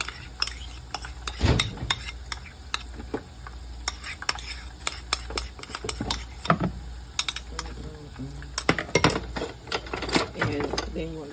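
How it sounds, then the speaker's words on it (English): Cucumber and cabbage slaw mix being tossed with dressing in a bowl, giving a run of close, irregular wet clicks, scrapes and stirring taps with no voices. "And then you want to toss this all together."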